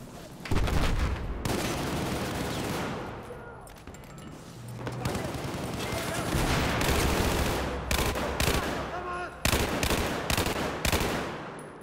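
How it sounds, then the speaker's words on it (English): Bipod-mounted machine gun fire in Battlefield 4 rattles out in long, dense bursts broken by short pauses, mixed with other gunshots and booms across the battlefield, loud and close, with occasional talk over it. "he's got a machine gun on a bipod"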